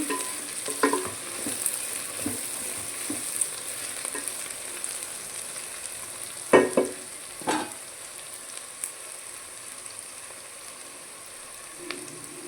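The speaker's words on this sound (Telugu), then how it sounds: "మంచిగా ఇలా ఫ్రై అయిపోతుంది మనకి చూసారా మంచి ఫ్రై అయింది మనకి ఆయిల్ అంతా తేలింది" Broad beans and egg frying in hot oil for a curry, a steady soft sizzle with occasional sharp stirring scrapes and clinks of a spatula against the pan.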